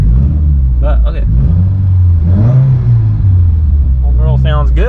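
A Subaru WRX with an FA20 engine runs loud and close on a dyno, a deep steady rumble with pitch swells as it revs, while someone talks over it.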